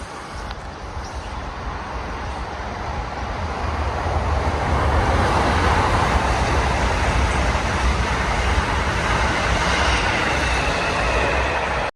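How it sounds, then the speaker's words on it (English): A train of rolling freight wagons rumbles past close by, a loud, continuous roar that builds and holds steady with faint rhythmic clatter. "every other damn minute there's another damn train"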